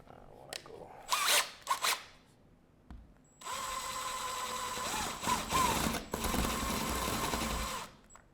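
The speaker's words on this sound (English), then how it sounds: "that's the whole reason we want to go ahead and drill the holes" A power drill bores holes into an old plaster wall over wooden lath, running in two sustained bursts with short revving spurts before, loud and close, with no talk.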